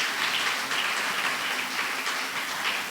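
A church congregation claps in praise of Jesus during a Telugu worship sermon, producing a steady, dense wash of many hands that holds evenly for the whole stretch.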